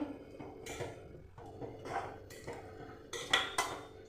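Drumstick (moringa) leaves being stirred in a pot of boiling water in a village kitchen: several scraping, clinking strokes against the pot, irregularly spaced and moderately loud, with no talking.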